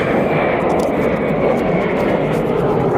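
A Volaris airliner passes at Phoenix Sky Harbor airport with a loud, steady roar of jet engines that fills the whole stretch and holds close and constant throughout.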